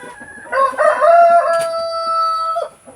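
Chickens and muscovy ducks at feeding time, with a rooster's loud nearby crow ringing out over faint background clucking and farmyard noise.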